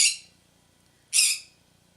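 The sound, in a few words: angry chirping bird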